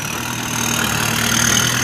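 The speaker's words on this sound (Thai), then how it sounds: "เต็มกล่องมาเลยครับดันเนินกันหน่อย มีเกียร์สโลครับขึ้นสบายครับ" A loaded dump truck with a full bed climbs a slippery slope in low gear. Its engine gives a steady, loud, close drone that rises slightly in strength.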